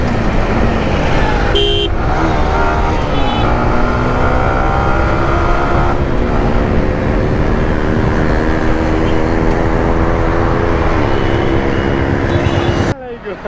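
Busy road traffic with cars, motorbikes and haulers passing near a flyover, a dense, loud continuous roar of engines with rising and falling drones and a short horn toot early on.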